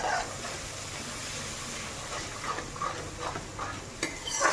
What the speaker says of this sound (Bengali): এখন মশলাটা ভাজা হোক।